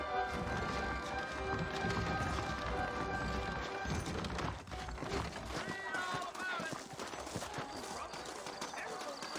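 Steady clip-clop of horse hooves in Red Dead Redemption under a dense, continuous bed of game music and ambience, with voices talking over it throughout.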